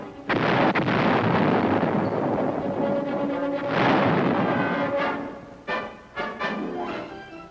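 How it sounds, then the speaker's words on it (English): Vietnam War saturation airstrikes and artillery fire pound strategic hilltops: a long, heavy rolling roar of blasts that swells and fades, then several sharp closer explosions near the end. "This meant several days of saturation airstrikes. And artillery fire."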